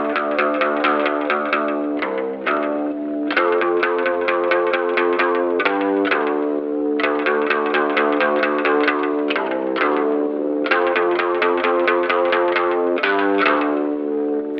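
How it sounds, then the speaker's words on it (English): Twangy, echo-drenched six-string electric bass playing a melodic riff of repeated notes, bright and reverberant in a spaghetti western style, steady and prominent. "This spaghetti western-inspired 6-string electric bass."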